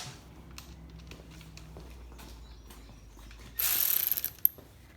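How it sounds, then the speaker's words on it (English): A ratchet with a 10mm socket clicks in one quick burst of rapid pawl ticks while removing top bolts on a Troy-Bilt Storm 2620 snow thrower, following a stretch of near-quiet workshop room tone. "You want to use a 10mm. Take those bolts off the top."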